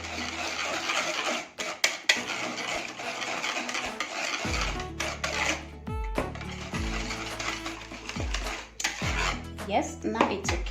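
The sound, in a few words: whisking oat pancake batter with cooking oil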